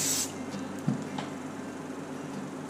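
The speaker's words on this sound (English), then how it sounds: "use 505 spray" A can of 505 temporary adhesive spray used for machine-embroidery hooping gives one short, close hiss at the very start. Faint handling noise and room quiet follow.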